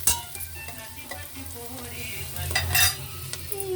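Shahi jeera sizzles in hot oil in a pan, a soft continuous crackle with light stirring scrapes and a faint clink of utensils, close and moderately quiet.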